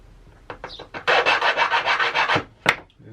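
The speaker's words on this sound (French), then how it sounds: "je remets un tout petit coup de lime en dessous ici pour virer, pour enlever le restant de rainure" A hand file rasps along a groove under a wooden guitar fretboard, a burst of about ten quick, loud, close back-and-forth strokes followed by a sharp click.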